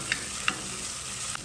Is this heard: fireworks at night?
no